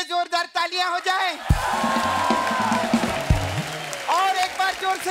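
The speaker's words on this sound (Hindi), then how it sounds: "हमारे गेस्ट के लिए जोरदार तालियां हो जाए" A crowd breaks into sustained applause with some cheering, the clapping filling the middle of the clip between bursts of speech at the start and end.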